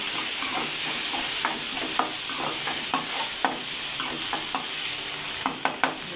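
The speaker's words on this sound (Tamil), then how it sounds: "தக்காளி தக்காளி கொஞ்சம் வதங்கட்டும்" Tomatoes sautéing in a pan for a chicken fry, with a steady hiss of frying and repeated stirring scrapes and taps from a spoon against the pan, close and moderately quiet, no talking.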